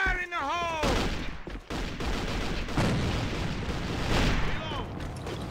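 A grenade explodes in a team shooter video game, a loud booming blast with rumbling gunfire around it under shouted voices and game sound.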